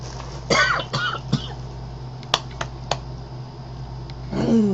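A few short coughs and throat-clearing sounds, with clicky noises scattered between them against a quiet indoor background.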